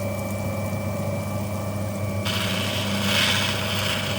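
A 400 grit wheel grinds opal, a steady faint mechanical whir with a constant hum that turns into a brighter, hissier rasp partway through as the stone meets the wheel.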